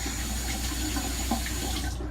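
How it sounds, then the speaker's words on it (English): Running water pours steadily from a tap as an electric shaver is rinsed under it, a continuous close hiss and splash with no talking. "You might have to rinse it out"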